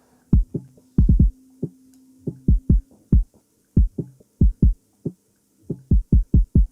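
Punchy compressed kick drum from a trap metal beat, a fast irregular pattern of short heavy thumps, loud and dry, with brief gaps between hits and no voices.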